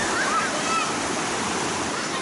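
The Sungai Kadamaian river rushes steadily in a broad, loud, unbroken wash of flowing water, close by and with no talk over it.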